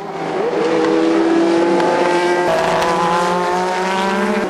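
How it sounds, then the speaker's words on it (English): A 1970s Formula One race car screams past at high revs at a historic motor race in Sydney, pitch shifting as it goes, loud and continuous with a faint tire squeal. "These Formula One cars from the 70s and 80s have now become part of the sport's history"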